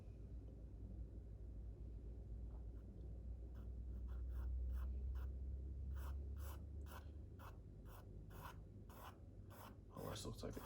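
Pencil strokes draw a power pole on paper in a road perspective sketch, quick scratchy marks in short rhythmic bursts that thicken toward the end, close over a low background hum, with no talking.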